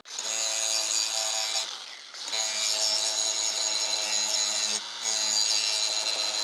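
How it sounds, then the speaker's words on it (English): A full grinding wheel sharpens a rough zero-turn mower blade, giving a loud, close, continuous high metallic whine and grind that drops away briefly twice as the wheel lifts off the blade. "We're going to do this one completely with the full grinding wheel."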